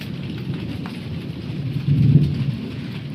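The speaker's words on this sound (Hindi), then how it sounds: "देख सकते हैं बारिश स्टार्ट हो गई है" Steady rain with low, rolling thunder rumbling beneath it during a storm over a house, the rumble swelling louder toward the end with no voices.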